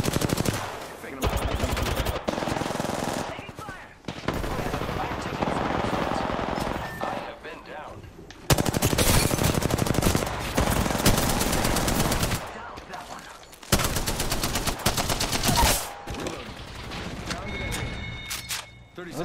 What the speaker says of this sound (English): Taking fire. I am taking fire.